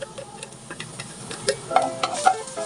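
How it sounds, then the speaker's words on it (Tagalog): Garlic sautéing in a little oil in a pan, soft sizzling with light stirring and utensil clicks, close and fairly quiet, no talk. "magigisa na tayo ng bawang sibuyas"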